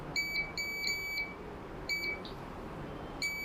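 Digital multimeter continuity beeper on a Vivo Y20 phone circuit board while capacitors are probed, four short high-pitched steady beeps in uneven bursts over faint background hiss.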